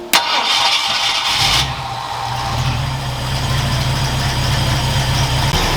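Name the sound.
Ford Galaxie engine starting and idling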